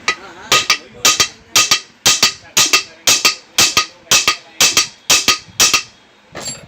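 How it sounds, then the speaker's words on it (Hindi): A hammer strikes a rusted pressure cooker handle resting on a flat surface: about a dozen sharp, loud metallic blows, mostly in quick pairs, at a steady rhythm and close up. "इसको ऐसे किसी प्लेन सरफेस पे रख के इसको थोड़े फटका देंगे ऊपर से हथौड़ी से"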